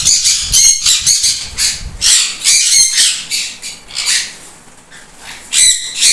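A pair of pet sun conure parrots gives loud, harsh, repeated squawks in close bursts with short pauses between them.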